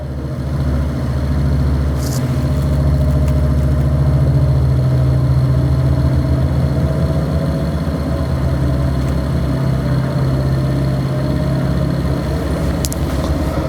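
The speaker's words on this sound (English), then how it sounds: "let us wait for approximately 1000 RPM or maybe a little bit more, just to observe the effect" Continuous low motor hum of a lab gyroscope apparatus spinning up toward roughly 1000 RPM, steady and loud with a slight rise in tone, a couple of faint clicks over it.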